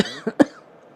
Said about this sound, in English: Yeah, I'm still coughing.